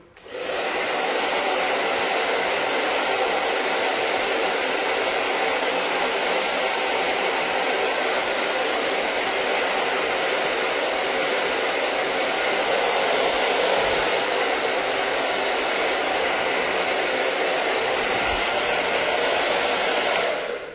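Steady, loud hair dryer blowing continuously on a thin strand of hair wrapped over a brush, a constant broadband rush with no pauses or talk.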